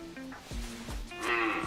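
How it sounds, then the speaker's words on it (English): A cow in the hunting video game theHunter Classic gives a drawn-out, moaning moo that swells louder toward the end, heard clearly over faint game ambience with no talking. "it's a cow."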